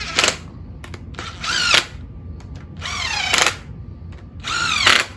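A power tool fastening the fuel rails on a Gen V 5.3 engine, with several short whirring bursts that rise in pitch, close and loud, separated by brief pauses.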